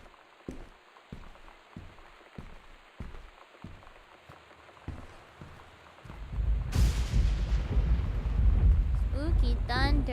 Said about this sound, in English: Spooky thunder, stop scaring me.